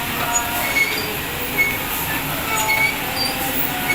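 A roti-making conveyor machine in a gurdwara langar kitchen runs with a steady loud mechanical rumble and rattle, with faint high squeaks recurring throughout and no talk.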